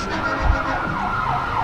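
Caryville Police Department car siren in the Campbell County Christmas parade in LaFollette, a wailing tone sweeping up and down across a short stretch, moderately loud amid crowd and street noise.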